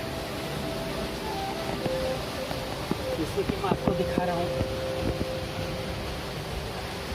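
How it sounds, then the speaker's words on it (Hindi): A waterfall beside the Atri Muni ashram cave gives a steady, even rushing hiss throughout, while someone talks over it. "बिल्कुल झरने के ठीक सामने"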